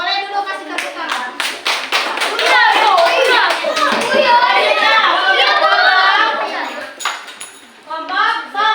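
A classroom of children claps hands together, starting with a few scattered claps, then building into a dense, rhythmic group clapping mixed with children's voices before thinning out into a few final claps.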